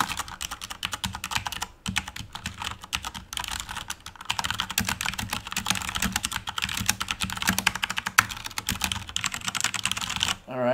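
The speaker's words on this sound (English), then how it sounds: "here is the Corsair K95 with brown switches" Rapid, continuous typing on a Corsair K95 mechanical keyboard with brown switches, a dense run of close keystroke clicks with a brief pause near the middle.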